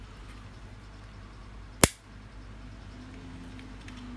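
A toy astronaut figure's stiff spring launcher fires with one sharp, loud snap near the middle, close by, against a quiet background with nothing else happening.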